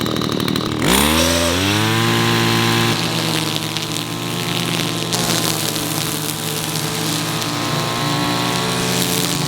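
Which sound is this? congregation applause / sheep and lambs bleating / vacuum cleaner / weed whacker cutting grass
weed whacker cutting grass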